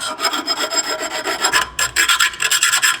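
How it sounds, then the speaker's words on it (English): Hand file rasping across the burred cut edges of a BMW M4 VRSF exhaust pipe, with close, loud, rhythmic back-and-forth strokes that quicken in the second half. "I'm gonna file down these burred edges here and make it nice and smooth"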